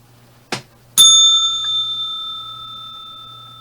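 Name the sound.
bell ringing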